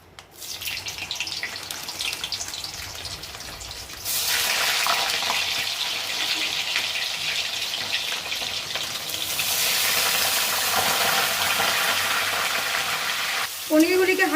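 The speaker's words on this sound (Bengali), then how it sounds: "আমার ঘি আর তেল গরম হয়ে গেছে, এখন আমি পনিরগুলোকে আগে ভেজে নেব হালকা করে" Paneer pieces dropped into hot ghee and oil for a light fry, bursting into a loud, dense sizzle that swells after a quieter start and keeps crackling steadily up close.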